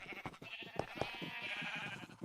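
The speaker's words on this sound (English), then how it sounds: "I need to either kill or like move these sheep at some point." Minecraft sheep bleating in a hardcore survival world, a couple of faint wavering bleats over a low background murmur, with no talk.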